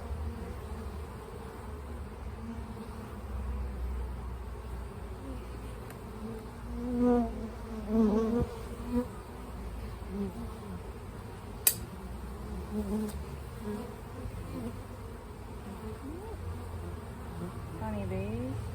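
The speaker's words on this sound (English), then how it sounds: "Honeybees." Honeybees hum and buzz around an open hive during a beekeeping inspection, a steady low drone with individual bees swelling louder as they fly close, and a person talking at times over the buzzing.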